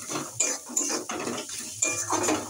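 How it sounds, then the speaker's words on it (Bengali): Spice paste being stirred and sautéed in a pan for a Bengali loitta (Bombay duck) fish dish, a metal spoon scraping and clinking against the pan in repeated strokes, close and fairly loud with no talking. "এবারে ভালো করে কষাতে হবে।"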